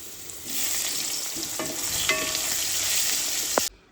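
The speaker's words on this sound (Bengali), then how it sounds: "এবার বেগুনটাও ভেজে নেব। বেগুনটাও আমি ডুমো ডুমো করে কেটে নিয়েছি।" Diced eggplant cubes fry in hot oil, a continuous loud sizzle with occasional stirring scrapes and pops, ending abruptly, with no voices.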